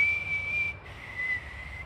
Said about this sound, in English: That fucking whistle though.